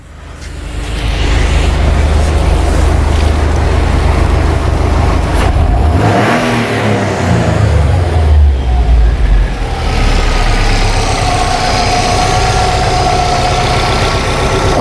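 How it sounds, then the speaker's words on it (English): A 2008 Subaru Legacy with a stalling fault, idling steadily before its engine is revved up and back down in one sweeping rise and fall, then settling back to a loud, even idle. "I want to rev it like I did before when I got the car to fail."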